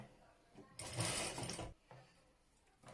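A sewing machine stitches ruffles onto a baby dress in one short burst of close, busy mechanical whirring lasting under a second, with quieter handling noise before and after.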